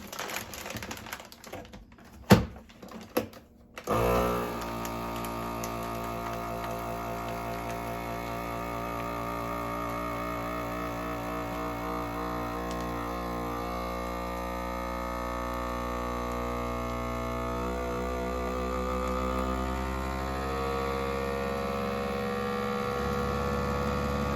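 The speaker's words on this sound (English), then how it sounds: "Let's vacuum seal the other one." A few clicks and taps, then a FoodSaver vacuum sealer motor starts and runs with a steady droning hum that continues unchanged for about twenty seconds while sealing a bag of Quaker Oats.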